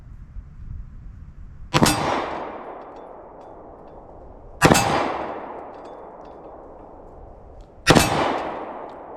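Three single pistol shots from a Taurus handgun firing Sig/Sierra 124-grain jacketed hollow point rounds, each a sharp loud crack with a ringing decay, spaced a few seconds apart outdoors.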